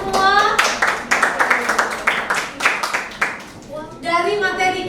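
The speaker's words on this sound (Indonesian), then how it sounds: "Oke, tepuk tangan semua." A class of students claps hands in a quick run of sharp, rhythmic claps, with voices speaking briefly before and after the clapping.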